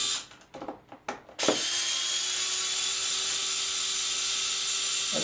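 Power screwdriver whirring as it backs glued screws out of model railway track, a few short bursts at first, then one long steady run, close and fairly quiet.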